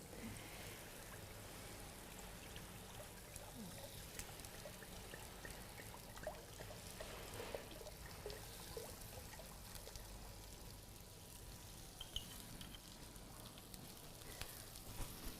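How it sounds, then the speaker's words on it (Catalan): Water poured into a pot on an induction hob in a kitchen to heat for a bain-marie, a faint, steady trickling and splashing stream that continues at low level throughout. "Posem l'aigua que es vagi calentant."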